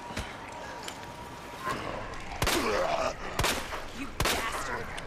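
Gunfire in the Resident Evil 2 remake, a few sharp broadband shots spaced across the clip amid game ambience, with a player's voice talking between them.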